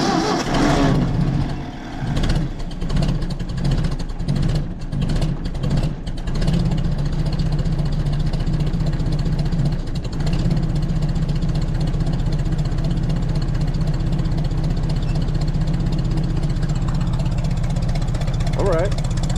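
A 1966 Ford F250 camper special's engine runs with a stuck throttle, giving a loud, steady low drone throughout, with brief voices and clatter over the first few seconds.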